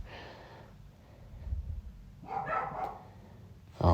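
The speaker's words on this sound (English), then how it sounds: "my dogs are going freaking insane" Dogs barking indoors at home, a few muffled barks and snorts at a distance, quiet and intermittent, ending with a louder close bark.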